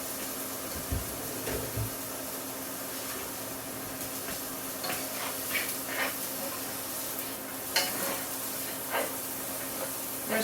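Vegetables sizzle steadily in a tablespoon or two of hot oil in a pan, a constant frying hiss with occasional pops and clinks.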